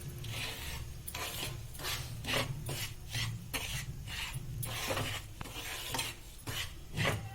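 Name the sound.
wheat flour being stirred and roasted in a pan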